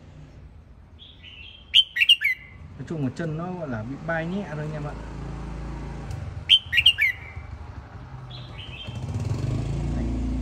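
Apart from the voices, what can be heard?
red-whiskered bulbul (chào mào) singing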